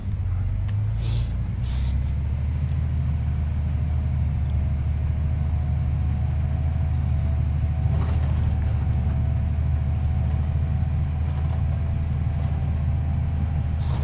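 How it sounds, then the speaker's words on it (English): A tractor engine running in Farming Simulator 25, a steady low rumbling drone with a faint mechanical whine that holds evenly throughout, close and continuous with no talk. "Love the noise of this tractor."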